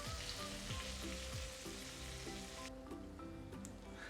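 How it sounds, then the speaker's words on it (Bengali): A spice paste of tomato and turmeric simmers and sizzles in a pan for a tilapia curry, a soft, steady frying crackle with faint bubbling pops throughout, close but quiet. "এখন মশলাটা সিদ্ধ হচ্ছে।"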